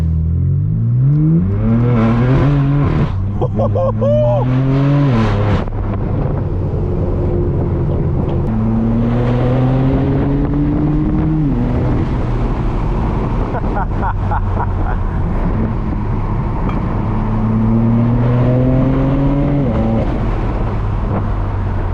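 A loud straight-piped BMW M4 F82 exhaust revs and roars on mountain roads, climbing through gears in repeated rising pulls, with crackling bursts between, up close.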